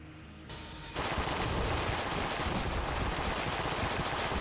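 Sustained gunfire in Enter the Gungeon: a brief quieter lead-in, then from about one second a dense, continuous loud barrage of rapid shots that holds without pause.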